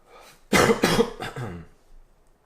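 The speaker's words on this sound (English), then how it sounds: "Please excuse my cough." A person coughs a few times in quick succession, close and fairly loud, followed by a faint throat sound.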